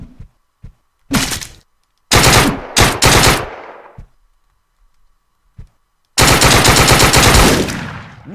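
Machine gun fire in the video game Deadbolt: loud, close, clipped bursts of automatic fire, with two short volleys, a pause, and then a longer sustained burst.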